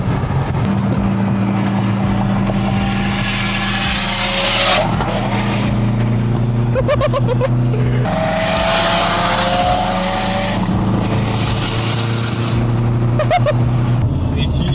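A very loud car engine with an open dump, straight-pipe exhaust roars and drones continuously with sharp revving bursts and tire noise, harsh and unmuffled, while people talk over it.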